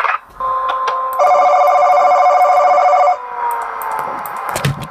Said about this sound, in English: let's listen to the phone call.